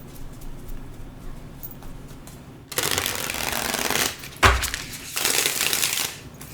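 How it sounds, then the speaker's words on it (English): Tarot cards shuffled by hand in two crisp bursts of riffling paper rustle, separated by a brief sharp tap, after a quiet stretch with no speech. "Now I'm going to shuffle again."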